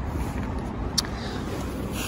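A Husqvarna 701 LR motorcycle's single-cylinder engine running, a steady low rumble heard outdoors with wind buffeting the microphone and a faint brief tick partway through.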